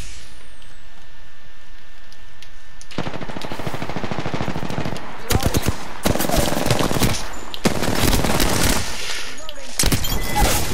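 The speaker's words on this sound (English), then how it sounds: "I'm getting shot at" Gunfire aimed at the player in the video game Apex Legends: after a quiet start, loud bursts of automatic fire break in and repeat in several close volleys separated by brief pauses.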